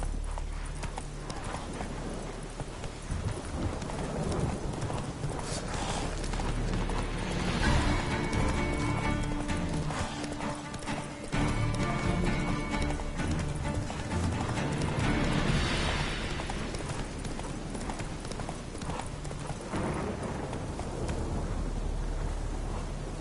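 Roach, Geralt's horse in The Witcher Wild Hunt, gallops with a steady rapid clip-clop of hooves over a dense game soundscape of ambient music and wind.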